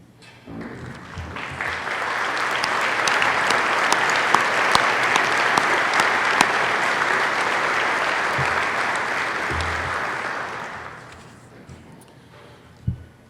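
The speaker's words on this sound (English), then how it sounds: "please stand and let's give them an applause" Banquet guests give athletes a sustained round of applause at a senior athletes appreciation dinner, a dense, even roar of clapping that swells, holds for several seconds, then dies away to quiet.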